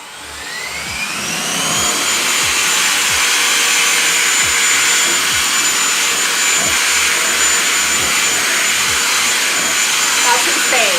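A Kenmore DS1030 cordless vacuum runs in handheld mode, powering up with a rising whine into a loud, steady high-pitched motor drone held close and unbroken, with a faint regular ticking underneath.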